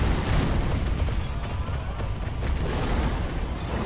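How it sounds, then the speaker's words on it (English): Firecrackers set off in the video game Sekiro during a boss fight, a dense, continuous crackle of bursts and pops that stays loud throughout with no pause. "We've got the firecrackers going here."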